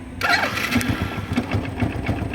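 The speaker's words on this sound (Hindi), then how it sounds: "देखो जैसे मैंने अपनी बाइक स्टार्ट किया" Motorcycle engine turning over and catching, a steady close idle chugging with a faint rhythmic pulse, alone without talk.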